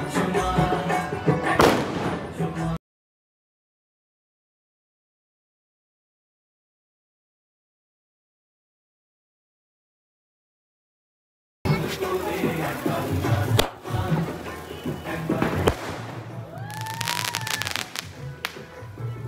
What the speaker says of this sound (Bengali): আমাদের বাজি ফাটানো চলছে